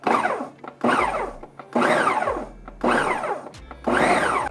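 A food processor pulsing bread cubes with Parmesan cheese and salt, five loud, evenly spaced bursts of whirring and rattling separated by short pauses.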